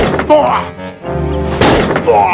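A storybook sound effect of a wolf battering against a goat's door: heavy, repeated wooden thuds and bangs, loud and close, with voice-like sounds mixed in.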